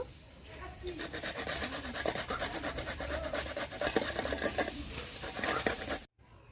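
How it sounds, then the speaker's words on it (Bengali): Beetroot is rubbed against a metal grater in a steady run of close, loud rasping strokes, continuous for about five seconds before stopping abruptly. "এবার গ্রেটারের সাহায্যে এটা গ্রেট করে নেব"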